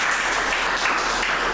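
A short burst of steady clapping from a group in a karate dojo during a training session, close and even for its brief length.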